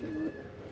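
Teddy breed pigeons, a female among them, giving a brief low steady coo, quiet and close, lasting under a second.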